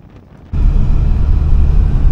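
Steady, heavy wind in France rumbles and buffets the microphone after a quieter opening moment, a continuous low roar with no voices.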